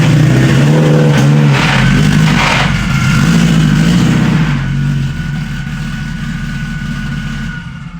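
A Subaru STI with a worn 6-speed transmission is driven into a trailer. Its engine idles and revs loudly close by, with knocking clunks from the drivetrain early on, then settles to a quieter low idle.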